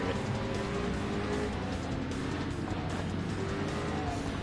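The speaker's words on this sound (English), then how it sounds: "Yes, it's just a monstrous V8 roaring past." Race cars, including a V8, roar continuously in Gran Turismo Sport, a dense steady engine drone that stays fairly quiet and distant throughout.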